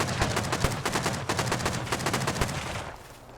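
Video game battle gunfire, rapid bursts of shots crackling in quick succession for about three seconds before cutting off.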